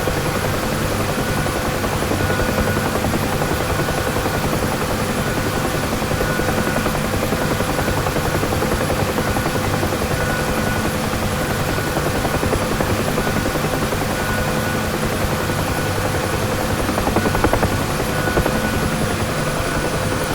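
A UH-1 Huey helicopter in the DCS flight simulator sets down at the start of a runway, its steady rotor thrum and turbine whine droning loud and continuous with a constant high-pitched tone above, no talk.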